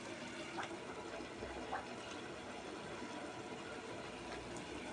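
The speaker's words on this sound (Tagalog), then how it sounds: "Tubig." Water pours in a steady, even stream while cooking, a continuous close wash of sound with no breaks or talk.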